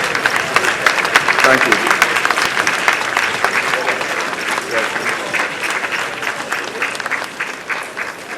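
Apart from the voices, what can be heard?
audience applause for the speaker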